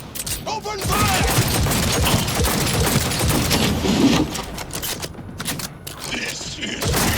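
Dense, sustained automatic gunfire in a Cyberpunk 2077 firefight, rapid bursts overlapping with heavy thuds and impacts for several seconds, loud and close.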